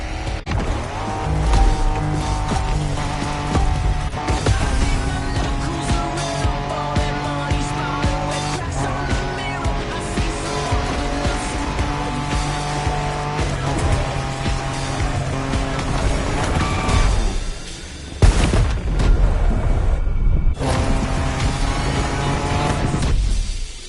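Off-road racing in The Crew Motorfest, with a car engine revving and roaring almost nonstop, gear shifts and tire noise layered over game music, loud and close, with a brief drop out near the end before the roar resumes.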